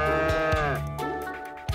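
A cow gives a long, loud, drawn-out moo that falls in pitch and dominates the whole span, with a few low thumps near the end.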